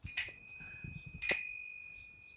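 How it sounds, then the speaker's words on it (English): Two bright, ringing tings from a bicycle bell fitted to a GT Aggressor Pro mountain bike, each a sharp metallic strike with a sustained high shimmer, about a second apart, up close with faint handling noise between. "it's a really nice ting noise"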